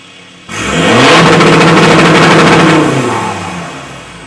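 Ford Ranger with upgraded injectors and a remap revving hard on a dyno, the engine note jumping up sharply, holding a loud rising roar for a couple of seconds, then winding down toward idle.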